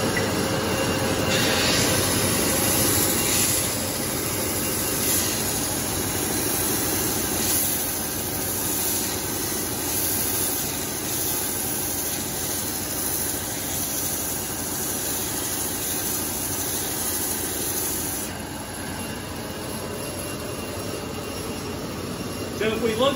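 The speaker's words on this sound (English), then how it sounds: "We're gonna sand that radius on the belt sander." A belt sander grinds a radius onto a wooden acoustic guitar neck block, a steady loud abrasive roar running throughout with shifting pressure, faint talk beneath.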